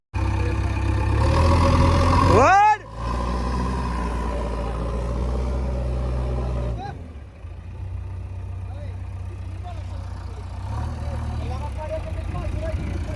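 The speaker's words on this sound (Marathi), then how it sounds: "आम्ही मशीन आणलाय ट्रॅक्टर काढाय बरं जीसीबी घुस" A JCB excavator engine idles with a low, steady rumble on a farm where it has come to pull out a stuck tractor. A short whining rise breaks in early, and people talk over the sound.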